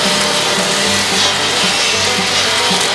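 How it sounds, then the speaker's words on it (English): A sawmill blade running steadily through a board at a Kentucky mill makes a loud, continuous, broadband roar that stays level for the full few seconds, close up, with no voices. "Then the final cut for how wide the board will be."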